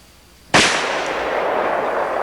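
A single gunshot fires a full metal jacket bullet at about 1,500 feet per second into a water jug, a sharp close crack followed by a long, hissing outdoor decay.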